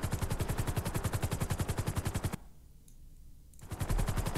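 Rapid automatic gunfire in a video game rattles in a fast, even stream, stops for about a second of near silence, then bursts again loudly.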